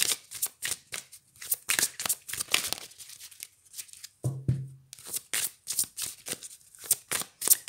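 Oracle cards of a Sufi wisdom deck being shuffled by hand, a quick series of crisp riffling and slapping bursts, close and fairly loud, with one brief low thump midway and no talking.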